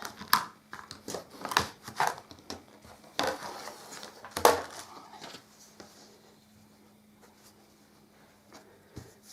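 Quilt fabric is cut along a ruler, with a series of close, sharp cutting strokes and rustles in the first few seconds that then fade to near silence, with no talking.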